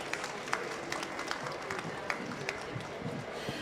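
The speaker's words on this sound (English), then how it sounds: "Let's give a round of applause once again." Brief applause from an audience for the panelists at the close of a talk session on nature and technology, a soft wash of many hands clapping with a few sharper claps standing out, fairly distant.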